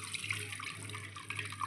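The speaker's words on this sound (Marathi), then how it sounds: "गाळणीत गाळून घ्यायचं असं।" Ground crab broth is poured through a sieve, giving a faint, continuous watery trickle over a low steady hum.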